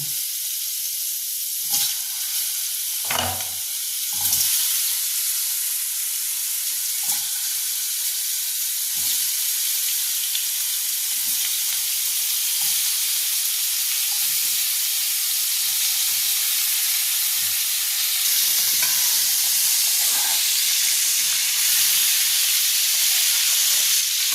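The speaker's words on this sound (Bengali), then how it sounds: "ফোড়ন দিয়ে এবার আমি আলু কুমড়োটাকে একটু ভেজে নেব।" Potato and pumpkin frying in oil with tempered spices for a fish-head curry, a loud steady sizzle throughout with occasional stirring scrapes and clicks.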